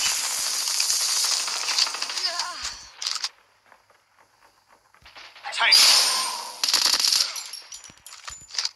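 Bursts of rapid automatic gunfire from CoD Mobile gameplay, a long rattling stream, then a pause with scattered clicks, then more sharp volleys, fairly loud and close.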